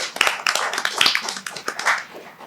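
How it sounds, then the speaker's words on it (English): An audience at an award ceremony gives a round of applause for a recipient: loud, dense clapping from many hands, close and continuous, with sharp individual claps standing out, and no talking. "And can I have another round of applause for him,"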